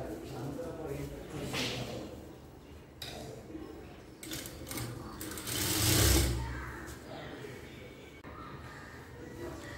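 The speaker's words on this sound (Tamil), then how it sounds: "இப்போ இதை மாற்றி எடுத்து மேலே ஒரு பதிவு தையல் போட்டு எடுத்துக்கலாம்" A sewing machine runs in bursts while stitching fabric for a girl's skirt during a beginner tailoring lesson, close and mechanical, with someone talking over it.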